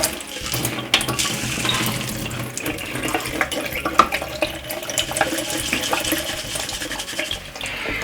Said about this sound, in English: give it a swirl around, drain any water off